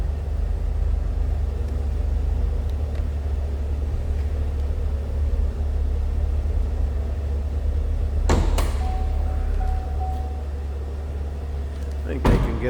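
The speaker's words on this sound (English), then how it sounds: "Let's go ahead and pop this hood." The hood of a 2010 Chevrolet Camaro 2SS with a supercharged 6.2-liter engine is released and lifted, giving two sharp clunks over a steady low rumble, with a voice talking in between.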